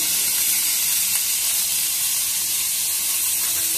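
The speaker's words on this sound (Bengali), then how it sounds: "আলুটাকে লাল করে ভেজে নেওয়া হবে।" Potatoes fry in hot oil with a loud, steady sizzle and bright hiss that holds evenly from start to finish, close up and without talk.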